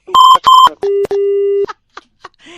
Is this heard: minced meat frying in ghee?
no